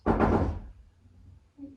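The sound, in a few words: knocking on a door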